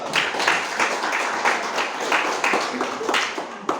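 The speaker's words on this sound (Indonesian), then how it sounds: "Tepuk tangan dulu kelompok 1" A classroom of students clapping for a student group after its presentation, steady applause for several seconds with some voices mixed in.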